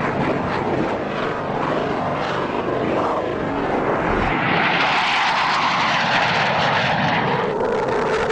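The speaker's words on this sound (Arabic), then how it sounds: "شاركت فيه تشكيلات من سلاح الطيران المقاتل والمقاتل القاذف وحوامات" Military fighter and fighter-bomber jets roar past during a live-fire air force exercise, a loud continuous engine rush that swells and shifts pitch as an aircraft sweeps by.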